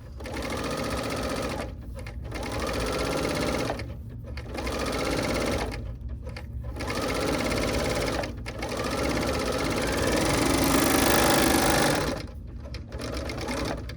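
A domestic sewing machine on its half-speed motor setting stitches trim on a copied blouse, running in steady whirring bursts of one to two seconds separated by short pauses, close to the microphone.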